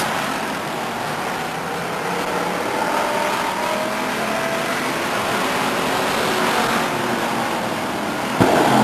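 Race cars run laps at Stockton 99 Speedway, a steady, moderately distant engine roar that holds level throughout.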